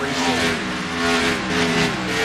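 Stock car racing on a superspeedway: a pack of cars roars past with layered engine drones whose pitch sweeps and shifts, loud and continuous with no talking.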